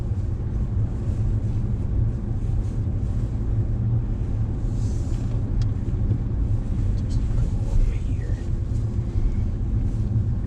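Audi cars lapping a wet race track at a Quattrofest track day, heard as a constant heavy rumble of engine and road noise with wind buffeting the microphone throughout.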